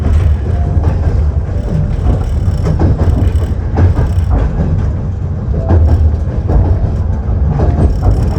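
A train in Russia rolls along the tracks with a loud, continuous rumble and rhythmic clatter of wheels over rail joints, heard from inside the carriage.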